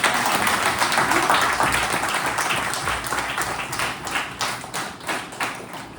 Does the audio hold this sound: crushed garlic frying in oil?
no